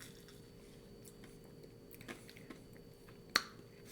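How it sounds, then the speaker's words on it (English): Ice from a margarita being chewed, with soft crunching and squishy bites at close range over a steady background hiss and one sharp click near the end. "And you get to chew on the ice."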